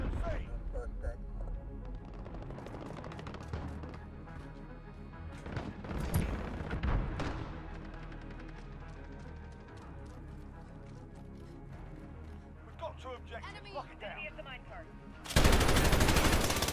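Rapid gunfire bursts and scattered shots from a Call of Duty Modern Warfare Domination match, moderately loud amid game sounds, with a player talking over it and a loud hiss of noise at the end.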